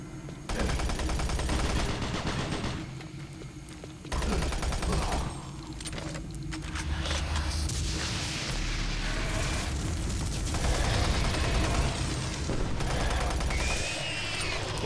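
Shotgun-wielding enemies blasting away in DOOM 3: The Lost Mission, dense, loud gunfire and booming explosions rolling continuously under game noise, with a brief lull before firing resumes.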